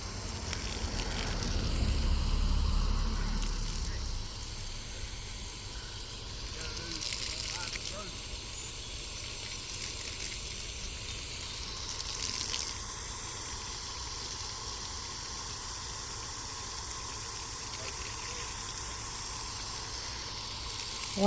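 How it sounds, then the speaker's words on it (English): Continuous hissing spray of water from a garden hose onto hanging baskets of plants, steady and close, with a heavier low rush near the start. "Go ahead and water this."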